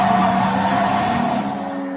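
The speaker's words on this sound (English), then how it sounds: "could he hear the oath amid the sound of screeching tires?" Car tires screech as cars spin donuts in a circle. One sustained, loud squeal with a rough engine roar underneath fills the whole moment and fades slightly toward the end.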